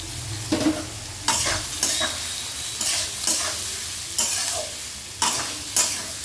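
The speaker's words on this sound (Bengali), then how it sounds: "পেঁয়াজটাকে আগে ভেজে নেব।" Chopped onions fry in hot oil in a pan while cooking a Bengali mutton dish, with a steady sizzle broken by repeated scraping bursts of stirring.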